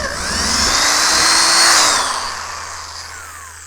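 Power drill drilling RV-10 aircraft wing parts, one close loud whine that rises in pitch, holds, then winds down over a few seconds.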